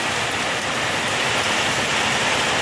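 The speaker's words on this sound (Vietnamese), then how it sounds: "vườn cam trời đang mưa nè" Steady rain pours down across an orange orchard, a dense, even hiss of drops hitting leaves and ground that stays loud and unbroken throughout, with no voices.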